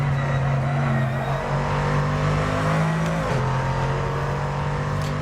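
An old Dodge Viper race car in a GT2 racing video game, its loud steady engine drone holding constant with a brief pitch shift midway and no voices.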